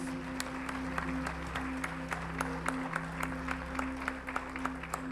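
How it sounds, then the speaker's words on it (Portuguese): A church congregation applauds faintly in a hall, with scattered, fairly regular claps over a steady electrical hum and no talking. "Dá uma salva de palmas para Jesus, meu querido."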